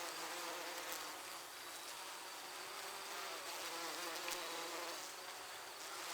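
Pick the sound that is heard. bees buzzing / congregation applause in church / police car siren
bees buzzing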